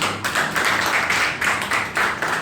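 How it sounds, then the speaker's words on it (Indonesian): Classroom of students clapping for classmates during an Islamic history lesson, a dense patter of hands in several rhythmic bursts, fairly loud and close, with no talking over it. "kita kasih tepuk tangan buat teman-teman"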